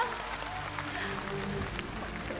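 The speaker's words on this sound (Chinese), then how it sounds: "我们用热烈的掌声" Audience applause on the Chinese TV show The Brain, a steady dense wash of clapping that fills the whole stretch at even loudness, with no voices over it.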